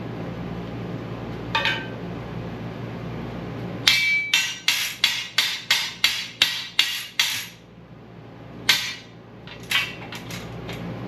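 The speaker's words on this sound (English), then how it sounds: "We'll just take the hammer and knock that off." A hammer knocks slag off a freshly cut piece of metal bumper, a lone tap followed by a rapid run of about a dozen sharp, ringing metallic strikes, then a few scattered hits, up close with no talk.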